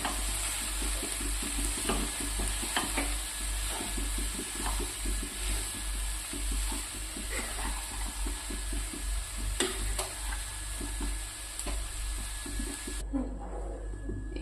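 Cabbage palya stir-fried without water over a low gas flame: a steady close sizzle with soft, regular stirring scrapes repeating throughout, then briefly quieter near the end.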